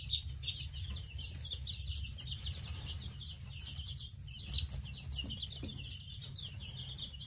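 Nine-day-old chicks and ducklings make many faint, high chirps and peeps in a steady chatter over a low background hum.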